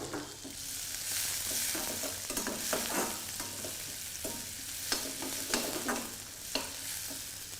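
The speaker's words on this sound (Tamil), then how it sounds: "இப்போ எண்ணெயில் நல்லா வதங்கிட்டு அந்த வாசனை நல்லாவே தெரியும் நமக்கு" Onion and green chilli sautéing in oil for a Chettinad potato and green peas fry: a soft, steady sizzle under repeated spoon scrapes and taps in an uneven rhythm, close but fairly quiet.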